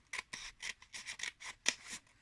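Scissors snip through paper again and again, about ten quick crisp cuts in a steady rhythm, close up and fairly quiet.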